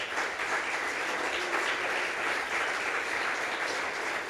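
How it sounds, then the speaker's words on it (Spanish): A church congregation applauds in a steady, dense wash of clapping that holds at an even level from start to finish, with no voices rising above it. "Dale otro aplauso al Señor."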